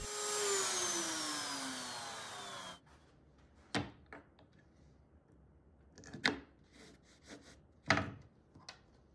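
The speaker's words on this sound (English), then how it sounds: "I swapped out the router bit for one matching the width of the bolt head, and then I'm just following the same slot." A router whines as it cuts a slot in wood for a dado-cutting jig, loud and continuous for a few seconds before stopping, followed by scattered scraping and knocking of wood being handled.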